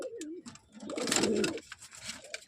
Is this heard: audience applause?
no